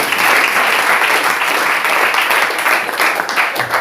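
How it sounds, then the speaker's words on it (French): Sustained applause from a worship congregation, steady and dense throughout, loud and close with no pauses. "Applaudissez encore."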